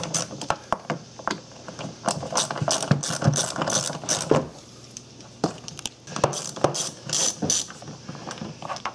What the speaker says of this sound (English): We're going to be removing these here two bolts. It's down here in the armrest. That's a 7mm socket for that.